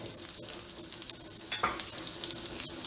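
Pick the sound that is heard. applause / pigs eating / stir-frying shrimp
stir-frying shrimp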